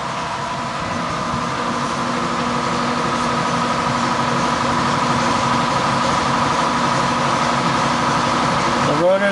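Rotary engine rotor for a turbocharged Mazda RX-8 spinning on a balancing machine, giving a steady, even mechanical hum with a constant whine that holds unchanged for several seconds before a brief disturbance at the very end.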